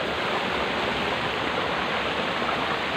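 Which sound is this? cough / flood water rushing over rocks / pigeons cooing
flood water rushing over rocks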